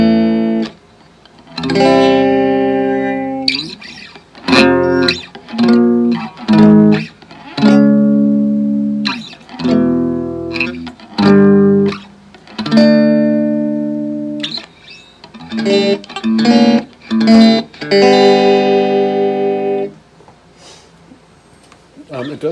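An electric guitar played with a completely dry clean tone through a Carvin SX200 amp rings out in a series of plucked notes and chords, each sustaining and decaying, separated by short pauses.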